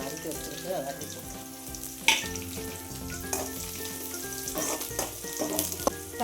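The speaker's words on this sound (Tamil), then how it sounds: "ஃபஸ்ட் எண்ணெய் ஊற்றி கருவேப்பிலை போட்டாச்சு" Oil sizzles steadily as curry leaves fry, with crackling pops and a few sharp spatters and clinks of a utensil stirring the pan.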